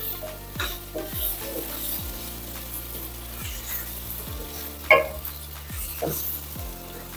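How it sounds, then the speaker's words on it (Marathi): Masala pungali pieces fry in a spice masala, with a steady sizzle broken by repeated spatula scrapes and clinks against the pan, close up, with one louder knock near the end and no talking. "हे तुकडे यामध्ये छान फ्राय होऊ द्यायचे आहे"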